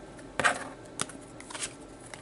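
A tarot deck is shuffled briefly, giving a few soft, close riffles and flicks of the cards.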